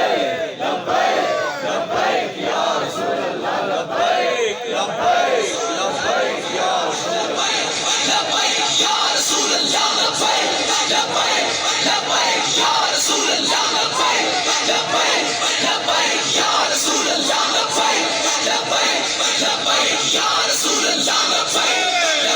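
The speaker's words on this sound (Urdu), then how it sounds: "جدو یہ نعرہ لگے تو پھر سارے ہاتھ چکیا" A large crowd at a religious Mehfil-e-Milad gathering roars a slogan in unison, sustained loud massed voices and yells rolling on continuously with no pauses.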